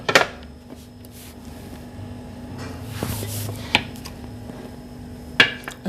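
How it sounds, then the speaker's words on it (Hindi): A pressure cooker lid is shut in a home kitchen, giving a few sharp metallic clanks and clicks at around 3.7 and 5.5 seconds over quiet background hiss. "तो अब प्रेशर का ढक्कन कर देंगे बंद।"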